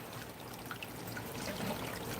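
Water is poured from a small water cooler onto a potted plant, making a soft, steady trickle and dribble that is faint and continuous.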